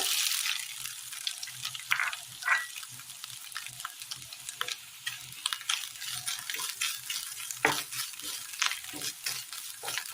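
Grated coconut sautéing in oil in a pan for a Kerala curry, a soft continuous sizzle with frequent scraping stirs and light taps, close and fairly quiet, with no talking.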